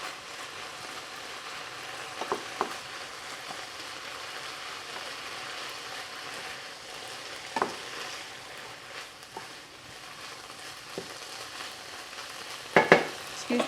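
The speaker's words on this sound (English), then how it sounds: "Excuse the sizzling." Beef and noodles sizzling steadily in a pan, a constant hiss with occasional clinks and scrapes of stirring, no voices.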